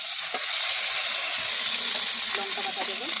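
Cumin seeds and ground cumin and ginger pastes hit hot oil in a pan after cauliflower has been fried, giving a steady, loud, close sizzle. A voice speaks faintly underneath.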